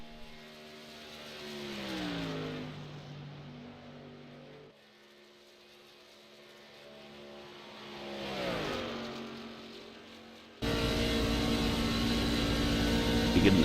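Race truck engines whine past during qualifying laps at Kentucky in the iRacing sim, two pitch-bending drive-bys rising and fading, then a loud steady close-up engine roar at the end.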